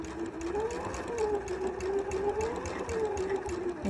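A sewing machine runs steadily, stitching a narrow hem with a hemming foot on lightweight fabric. The motor hum stays continuous and fairly loud for the whole stretch, with a gently wavering pitch and no talking over it.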